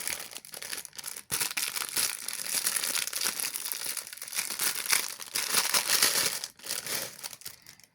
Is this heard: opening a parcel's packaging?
yes